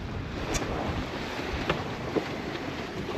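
A sailboat with its genoa fully unfurled moving at about 5 knots off the Curonian Spit, with steady wind and water rushing around the hull and a few faint clicks and knocks.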